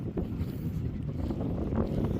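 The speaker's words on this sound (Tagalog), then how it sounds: "Malakas kasi ang hangin dito." Strong wind buffeting a campsite beside a tent, with loud low rumbling gusts battering the microphone throughout and no voices.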